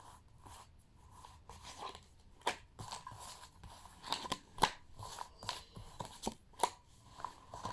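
Tarot cards are drawn and shuffled close by, quiet papery flicks and snaps repeating unevenly, with a few sharper slaps as cards land on a surface.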